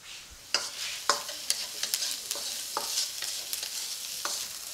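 Onion frying in a pan with a pinch of salt, a moderate continuous sizzle broken by a series of scraping stirs and light knocks, close and without talking.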